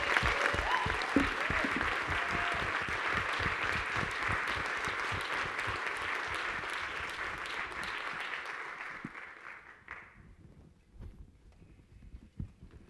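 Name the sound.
audience applause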